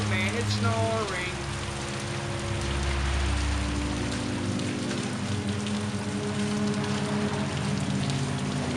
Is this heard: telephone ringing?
no